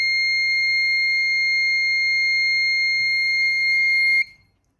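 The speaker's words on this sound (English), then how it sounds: "the smoke has turned on the alarm" A smoke alarm buzzer on a plug-and-play electronics kit, set off by incense stick smoke, sounds a steady piercing high tone that holds for about four seconds and then cuts off abruptly.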